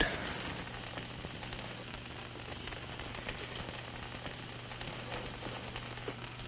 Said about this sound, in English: The rain was still falling.